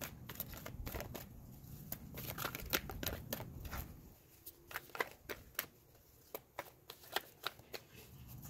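Tarot cards shuffled by hand in quick riffling bursts, then loose crisp flicks and snaps as single cards are handled, close and fairly quiet.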